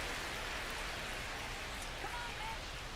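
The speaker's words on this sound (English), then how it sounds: "the field's not going to be able to hold up if the rain gets any worse than this" Steady hiss of rain falling on a baseball field in the MLB The Show 25 video game, a dense, even wash of noise throughout with faint game sounds beneath.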